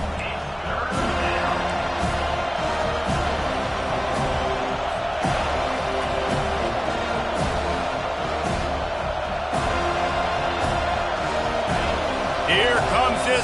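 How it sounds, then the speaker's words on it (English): Home crowd at a Clemson vs FSU college football game, a steady loud roar of cheering and noise that swells on a third down, with an announcer talking over it throughout. "Here comes this home crowd as the defense tries to get off the field on 3rd down"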